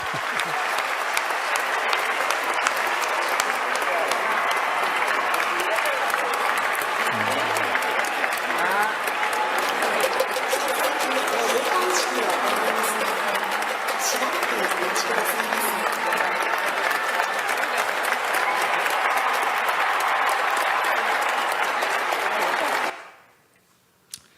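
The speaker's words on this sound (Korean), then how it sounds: "박수로 격려해 주시기 바랍니다" A church congregation applauds at a Sunday worship service, steady dense clapping filling the space for over twenty seconds before stopping abruptly.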